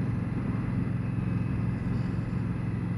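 A 2015 Indian Scout motorcycle's engine runs steadily under a dense, continuous rumble of road and wind noise, with no clear shift break standing out.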